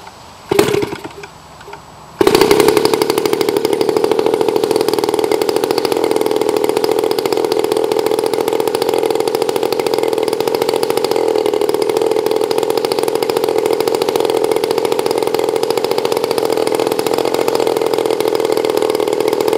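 A brief clatter comes before an RCGF 60cc rear-exhaust gasoline model engine fires up. It then runs loud and close at a steady, buzzing high idle for the rest of the clip, with no talk.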